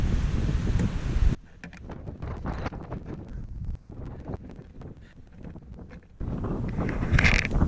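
Gusty wind roars across a van roof fitted with a roof rack and deck, loud and broadband at first, easing to lighter buffeting with faint clicks, then rising again.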